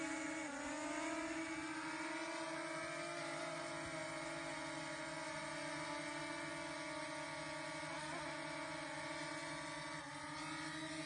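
A drone flies and moves in to land on a target outdoors in Western Australia, its steady high electric whine holding nearly constant and wavering slightly in pitch, with no talking.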